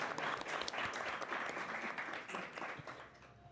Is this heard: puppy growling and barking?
no